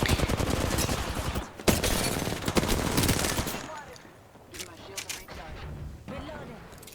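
Rapid automatic gunfire in an Apex Legends gunfight rattles loudly in sustained bursts, then gives way to sparser single shots and quieter gaps.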